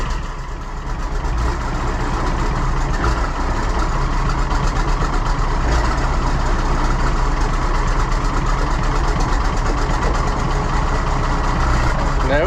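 An Allis Chalmers 200 tractor engine churns and labours on a cool 57-degree day while someone tries to get it running, a continuous loud mechanical drone with voices partly over it.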